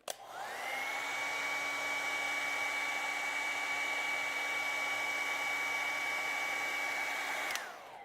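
A hair dryer switches on, whirs up to a steady high-pitched drone while drying acrylic paint, runs close and constant for about seven seconds, then clicks off.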